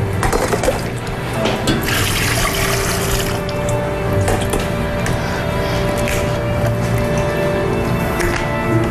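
Water runs steadily and loudly while a person is being washed, a continuous close gushing flow with no talking.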